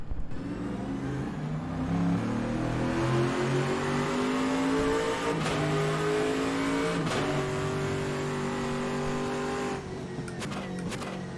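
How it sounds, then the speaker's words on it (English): Race car engine in rFactor 2 at 2017 Le Mans, loud and continuous with rising and falling revs and sharp downshift blips around the middle, close and alone without talk. "Those downshift sounds are pretty violent in a good way, too."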